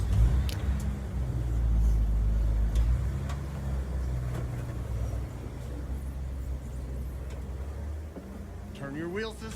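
Vintage World War II Jeep engine rumbling low and steady while driving off-road through winter terrain at a 4x4 jamboree, loudest early on then holding a constant drone, with people talking over it.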